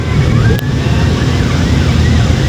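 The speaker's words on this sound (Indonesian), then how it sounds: "Dari kemarin banyak ambulan coy." A wailing ambulance siren, loud and steady, sweeping up and down in pitch over a low rumble of traffic.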